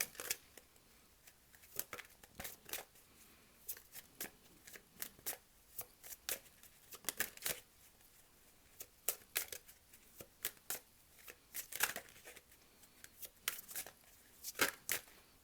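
Tarot cards are shuffled by hand, close and fairly quiet, in irregular bursts of crisp riffling and slapping separated by brief pauses, with no talk.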